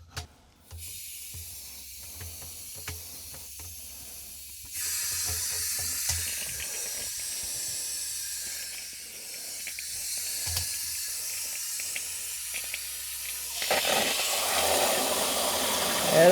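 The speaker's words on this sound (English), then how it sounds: "Let me just turn some water on and see what happens." Water turned on through a leaking water meter line, a steady hiss of rushing water that starts abruptly and grows louder in stages, close and alone without talk.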